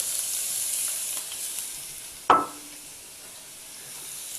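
Onions are tipped into melted butter in a pan, raising a sudden loud sizzle that eases quickly into a soft, steady frying hiss in a quiet kitchen.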